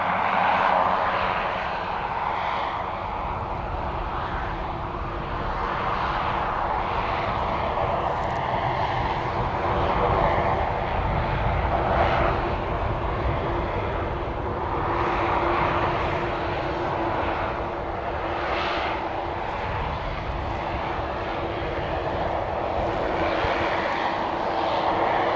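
A Life Flight air ambulance aircraft at Christchurch International Airport makes a steady, loud engine drone that holds for the whole stretch, with a broad rumbling roar and no speech over it.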